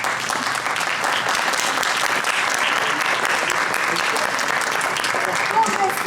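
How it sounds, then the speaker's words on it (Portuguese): A theatre audience at a stage performance claps in a loud, continuous burst lasting several seconds, many hands close together, with voices faintly mixed into the applause. "aplausos para a maioria."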